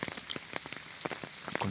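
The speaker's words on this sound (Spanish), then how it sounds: "con el sonido de la lluvia, de la tormenta" Rain falls during a nighttime storm in the countryside, close and soft, with scattered distinct drops pattering on a surface over a steady hiss.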